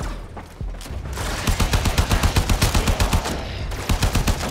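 Rapid bursts of game gunfire in Warframe, a fast rhythmic string of loud shots that runs almost the whole time, briefly easing before resuming.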